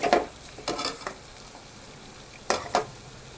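Vermicelli fries in a pan for semiya upma while a utensil stirs it, giving soft sizzling under a few scraping stir strokes in short bursts, close and fairly quiet, with no talking.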